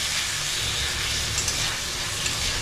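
Duck meat being sautéed in a pan, a loud, close, continuous sizzle and hiss with the soft scrape of stirring throughout and no talking.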